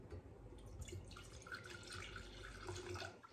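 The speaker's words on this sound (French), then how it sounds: "j'ai l'intention de mettre donc dans ce bocal un peu d'eau" A little water is poured into a glass jar, heard as a faint, close trickle and splash over quiet room noise.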